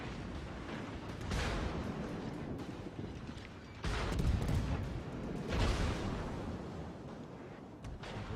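Naval guns fire from warships in a video game battle, heavy booming blasts swelling and rolling at a distance, two or three big bursts spread across a continuous rumble.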